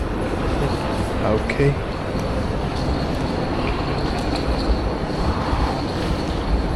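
A Northern train at a tram station in Manchester rumbles steadily with a faint metallic squeal, heard amid station ambience, while a person speaks briefly.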